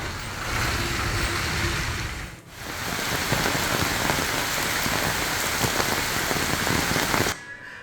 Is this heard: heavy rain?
yes